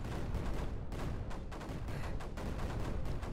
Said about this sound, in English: Can I just get a quick row of cannons,